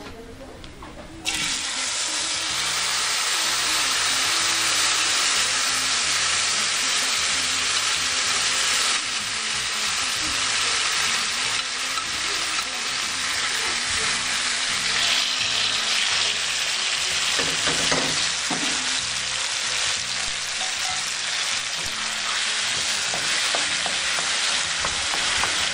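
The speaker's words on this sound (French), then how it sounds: "Nous avons fait frire les ailes et nous ajoutons notre mélange d'aubergines et de tomates." Fried chicken wings sizzle loudly and continuously in a pan after an eggplant and tomato mixture goes in, a dense close hiss of frying with stirring scrapes underneath.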